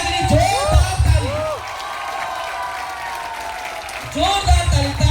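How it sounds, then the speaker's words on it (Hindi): A standing audience at a business seminar breaks into loud applause mixed with cheers and whoops, while a voice speaks over it on an amplified system with strong bass bursts at the start and end. "खड़े होके सब एक बार मिस्टर सुजय राय के लिए जोरदार ताली"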